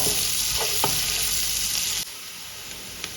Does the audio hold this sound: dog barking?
no